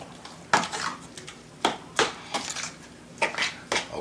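A spoon stirs white pepper into a baked spaghetti squash side dish in a bowl, giving a series of close, sharp clinks and scrapes spaced irregularly, about six or seven distinct hits.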